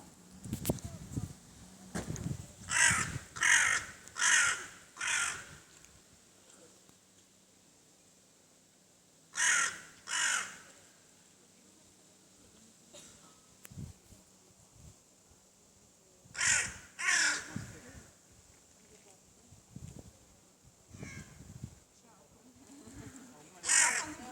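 A hooded crow caws outdoors near a parked car in loud, harsh bursts of two to four calls, repeated in several bouts with pauses between, while a person talks quietly in the background.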